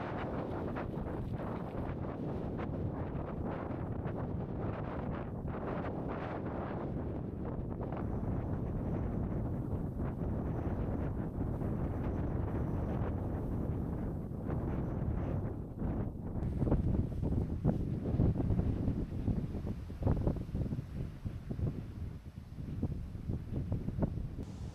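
Strong cold wind buffets the microphone while riding a bike along gravel roads, a steady loud broadband roar that swells and gusts throughout with no talking.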